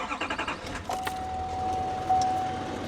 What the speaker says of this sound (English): Now the truck's been running for about 30 seconds.